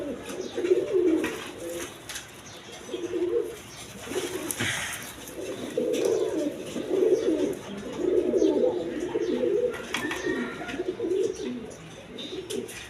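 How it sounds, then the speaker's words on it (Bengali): A pair of American Lakkha pigeons, a male and a female, coo in repeated low rolling phrases close by, with brief pauses between bursts and faint background rustling. "দর্শকবৃন্দ এইখানে এক পেয়ার আমেরিকান লক্ষা কবুতর আছে"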